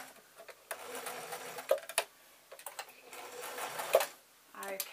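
A sewing machine stitches the last line of a small-stitch seam on a tote bag in short bursts separated by pauses, running close and fairly loud.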